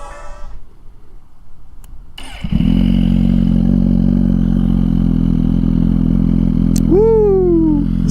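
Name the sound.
2023 Suzuki GSX-R1000 motorcycle engine starting and revving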